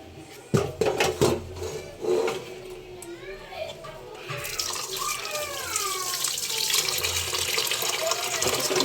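Water is poured over rice and lentils in a pot to soak them for khichuri. A few handling clinks come first, then a steady, close splashing pour fills the second half.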